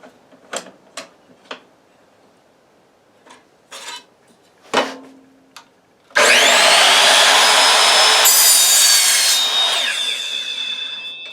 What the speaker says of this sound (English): a miter saw is so much safer to work with